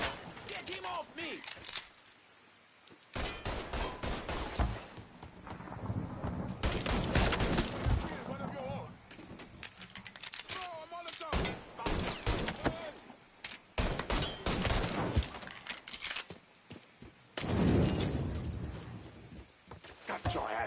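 Gunfight in Mafia 3 Definitive Edition on PS5 Pro: sharp, loud bursts of rapid gunshots cluster in several volleys separated by brief lulls, with metallic clinks and debris between.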